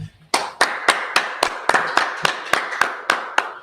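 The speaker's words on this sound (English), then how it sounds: "So, I'm going to clap that first." A single person claps hands alone in a steady, evenly spaced rhythm, about a dozen sharp, close claps in a row.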